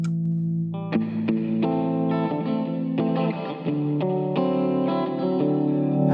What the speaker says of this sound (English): Okay, a little bit of reverb.